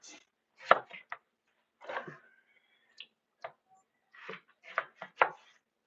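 A knife chops through four very large potatoes on a cutting board, cutting them into fries: sharp, irregular thuds in short clusters, close and fairly loud, with brief gaps between strokes.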